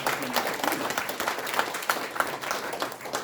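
Applause from an audience at the opening ceremony of a VR memorial hall fills the air, steady clapping from a crowd with a voice speaking over it.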